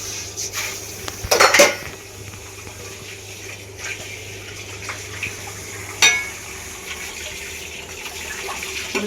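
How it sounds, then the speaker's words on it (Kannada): Dishes, pots and utensils are washed in a home kitchen: running tap water under scattered clinks and clatters of metal and crockery, with a couple of louder bangs, no talking. "ಅಷ್ಟರಲ್ಲಿ ಪಾತ್ರೆ ತೊಳ್ಬಿಡೋಣ ಅಂತ ತೊಳಿತಾ ಇದ್ದೀನಿ"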